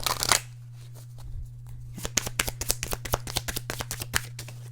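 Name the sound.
shuffling tarot cards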